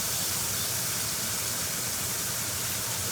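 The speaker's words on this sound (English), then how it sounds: "I'll saute them a little bit." Cut onions sautéing in a hot pan give off a steady, even sizzle and hiss that runs unbroken throughout, with no voices.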